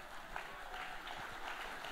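Soft, continuous clapping from an audience at a talk as a guest comes up on stage, sounding faint and somewhat distant.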